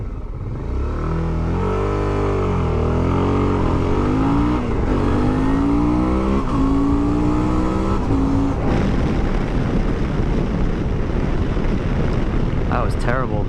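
A 2017 Suzuki V-Strom 650XT motorcycle pulls away hard on an open road for a 0-60 mph run, engine note rising through several gear changes, then settling into steady wind roar at speed.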